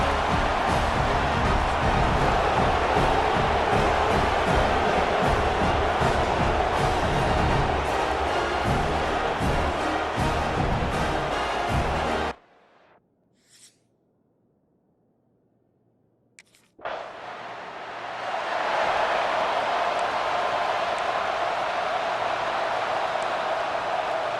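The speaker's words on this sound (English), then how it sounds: "this crowd is fired up. Listen to this noise here" Loud, dense roar of a fired-up stadium crowd at a UCLA Bruins college football game in College Football 26, sustained for about twelve seconds, cutting to near silence, then swelling back to a full roar.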